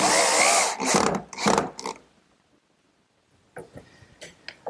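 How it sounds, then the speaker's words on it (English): A power drill drives screws into pine chest panels in short loud whirring bursts, then falls quiet before softer clicks and handling noises follow. "the top and bottom pine panels get fastened with some screws"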